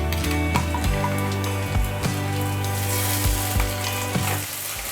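Onion with ginger, garlic and green chili paste frying in hot oil for a dahi chicken masala, a loud continuous sizzle with rhythmic scraping stirs of a spoon against the pan.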